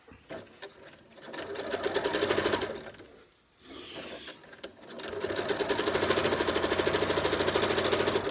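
Sewing machine stitching piping onto the back panel of a cushion, a steady rapid mechanical chatter running in two long bursts with a brief pause between, close and loud.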